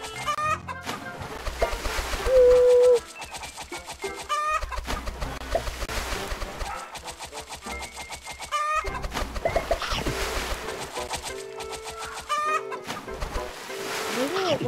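Chickens cluck repeatedly in an egg farm video game, steady bursts over looping game music and effects with some talk.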